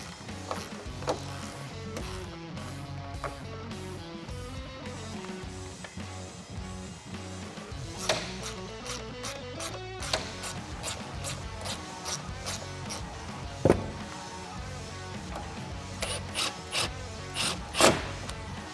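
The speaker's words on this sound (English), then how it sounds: "we can tighten up those bolts" Ratchet wrench tightening bolts on a Barricade removable hard-top roof basket for a four-door Jeep Wrangler JL, heard as repeated close mechanical clicks and metallic knocks, with louder taps near the end.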